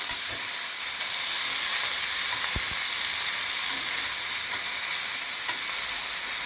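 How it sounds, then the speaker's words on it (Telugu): Brinjal pieces fry steadily in a pan for a brinjal chutney, giving a loud, even sizzle throughout with a few faint stirring clicks and no voices. "మంచిగా కలిపేసి ఇవి మంచిగా ఫ్రై కావాలి."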